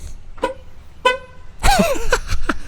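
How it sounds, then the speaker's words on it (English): Several short honks from a vehicle horn, spaced apart, then a longer wavering blast with traffic noise around it. "And listen to the horn."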